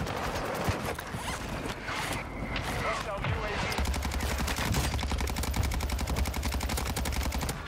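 Rapid automatic assault rifle fire in Warzone, sustained close and loud, rattling bursts that settle into a steady fast rhythm, with a voice talking over parts of it.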